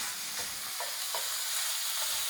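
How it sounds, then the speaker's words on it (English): Ground bison sizzles with onions in a hot pan, a steady close hiss of frying with a few brief scraping stirs. "Now is a good time to throw in the ground bison."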